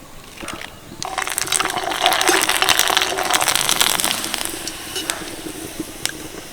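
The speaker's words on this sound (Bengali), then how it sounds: "দেখুন পাঁপড়টা সেকেন্ডের মধ্যেই পাঁপড় ভাজা হয়ে যাচ্ছে" Papad made from rice starch water frying in hot oil, a dense crackling sizzle that swells quickly, peaks through the middle and then tapers off, with sharp pops scattered throughout.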